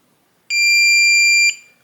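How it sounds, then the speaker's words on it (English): Kwikset Powerbolt 240 electronic door lock giving its reset beep: a single long, steady, high-pitched electronic tone lasting about a second, close and clear, starting and stopping abruptly in an otherwise quiet room. "Once you hear that long beep,"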